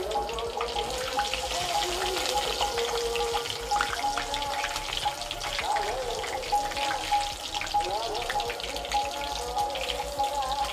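Pointed gourd fritters fry in oil in a pan, a continuous close crackling sizzle with faint bubbling that holds steady throughout.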